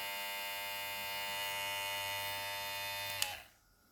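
A VGR V227 electric trimmer runs at its first speed with a steady, close, high-pitched motor buzz that holds evenly for about three seconds, then clicks off and fades away.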